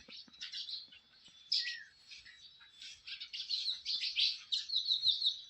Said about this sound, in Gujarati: બહુ જાજા ચકલા આવી પડે